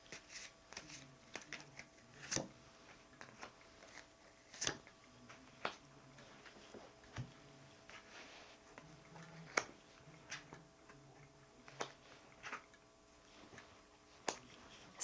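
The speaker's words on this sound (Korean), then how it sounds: "제가 카드 2장을 더 뽑아 보겠습니다" Tarot cards are drawn and handled from a deck in a quiet room: faint, irregular soft clicks and papery snaps, spaced unevenly, with no talking.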